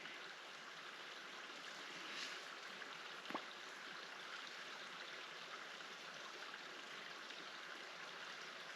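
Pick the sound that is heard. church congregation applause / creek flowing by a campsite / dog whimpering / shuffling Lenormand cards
creek flowing by a campsite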